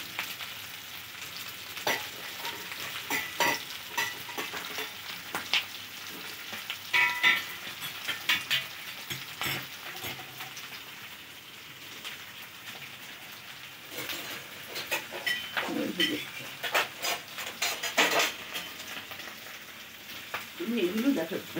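Potatoes fry in hot oil and are stirred and lifted out of the pan, a steady crackling sizzle with scraping clatters of a utensil. Brief voices come in here and there.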